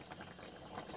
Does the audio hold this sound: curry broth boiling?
yes